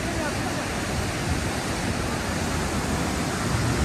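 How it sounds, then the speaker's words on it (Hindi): The Alaknanda river flows near the Badrinath temple gate as a constant, loud, broadband rush of water that fills the whole stretch without a break. "ये यहाँ पर है अलकनंदा नदी"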